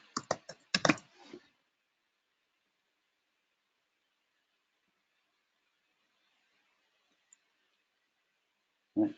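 Fingers tap a computer keyboard while editing a Facebook property listing: a quick, close burst of keystrokes, then near silence, with a single further clack at the end.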